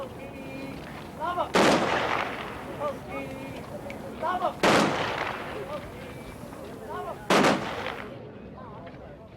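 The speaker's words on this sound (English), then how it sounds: "Three masked men stepped forward and obeyed orders in Irish to fire a 3-volley salute." Three masked men fire a three-volley gun salute, three sharp loud cracks spaced a few seconds apart, with murmuring talk underneath.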